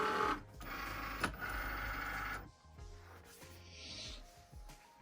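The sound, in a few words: Cricut cutting machine loading cardstock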